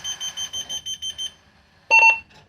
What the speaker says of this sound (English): that last beep was the radio starting up, the two-way radio